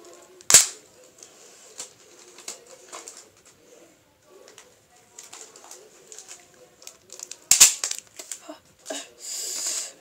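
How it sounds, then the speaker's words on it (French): Adhesive tape pulled and wrapped around a homemade mortar, two sharp loud rips followed by softer crinkling and handling noises, close by. "Donc on va mettre beaucoup de tonnes de scotch,"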